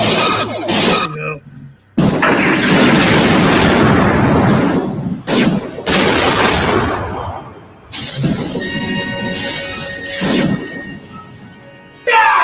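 Phaser fire in a Star Trek fan film, a run of loud, sustained energy-weapon blasts and crashes broken by short gaps, with voices speaking between the bursts.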